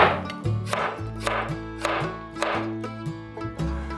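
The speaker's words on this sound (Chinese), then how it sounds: "把豆薯切粗条状" A kitchen knife cutting jicama into thick strips on a board, with about six or seven evenly spaced crisp chops over steady background music.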